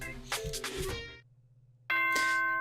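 A ding-dong announcement chime plays in the Danganronpa: Trigger Happy Havoc video game, with bright ringing tones that start loud and clear after a brief quiet gap.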